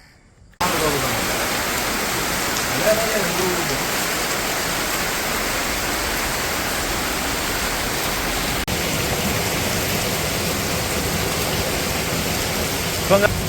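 Steady rain falls as a dense, even hiss beginning abruptly after a brief quiet moment and continuing loud and unbroken throughout, with no voices over it.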